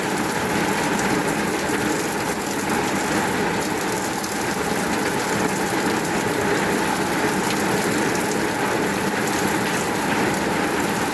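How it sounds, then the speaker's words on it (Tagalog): Steady, heavy rainfall roars without pause, a thick uniform wash of drops drumming on surfaces nearby. "Lakas ng ulan, guys."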